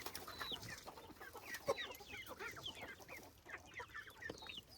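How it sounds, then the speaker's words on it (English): Chickens in an aviary, including a rooster, cluck and call in a busy, overlapping stream of short squawks and clucks, close and steady throughout. "Another rooster."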